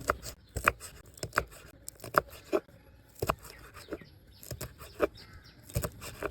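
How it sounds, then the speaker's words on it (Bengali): Green chilies being chopped finely on a board for an egg and brinjal dish, with a series of crisp, irregular knife taps close by, no talk. "তারপরে মরিচগুলো কুচি কুচি করে নেবো"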